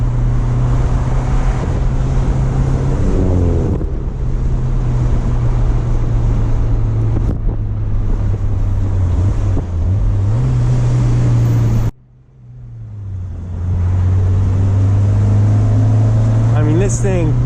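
Engine of a 1993 NA Mazda Miata revving from inside the cabin, a loud steady droning note that climbs and drops through the gears, with a sharp lift-off and quick return to the rasp near the end.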